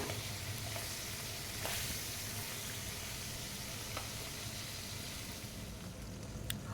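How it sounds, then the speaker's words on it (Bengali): Pabda fish fry in hot oil in a pan, a steady close sizzle with a faint crackle that runs unbroken and fairly quiet throughout, with a few small spatters and no talking. "তেলটা একটু গরম হয়ে গেলে পাবদা মাছগুলো ভেজে নেব"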